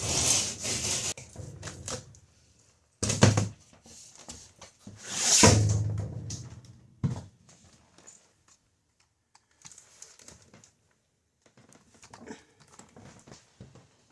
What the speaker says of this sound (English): cut and break this drywall